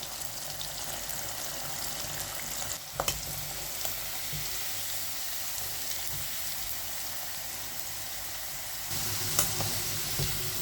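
Steady, close sizzling of elephant foot yam chips frying in hot oil, a continuous crackling hiss with occasional small pops and stirring sounds.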